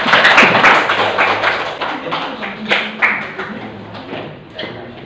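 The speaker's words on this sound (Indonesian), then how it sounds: "Oke, tepuk tangan buat kelompok ya." A classroom claps for a group that has just presented, a short burst of scattered hand claps and taps that fades unevenly, with students' voices murmuring alongside.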